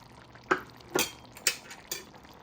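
A utensil stirs green onions into a pan of string beans, four distinct clanks against the pan in a slow, even rhythm, close and clear.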